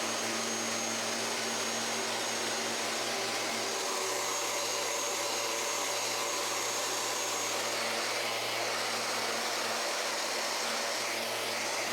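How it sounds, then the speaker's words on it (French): A power sander works the base and top of a wooden cremation urn, a steady, loud, unbroken whirring roar with no pauses. "Pendant que la colle sèche, je peux sabler la base et le dessus."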